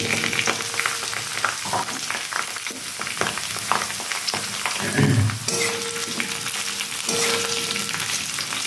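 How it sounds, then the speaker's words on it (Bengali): Yardlong beans and potatoes fry in a pan with a constant dense sizzle, interrupted by scraping stirring noises and a louder crackling burst midway. "আমি এখন দিয়ে দেব বটবটিগুলো ভালো করে আমি ভেজে নেব।"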